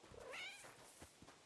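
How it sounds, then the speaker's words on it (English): A cat meows once, a clear rising and falling cry that is moderately close, with a faint room background and a few soft knocks after it. "I swore I heard a cat again."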